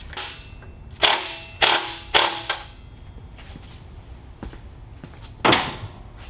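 A 14mm socket and wrench snug down nuts and bolts on a TrailMaster MB200-2 minibike still on its shipping crate, giving several sharp metallic ratcheting clicks and creaks in short bursts, fairly close, with quiet pauses between.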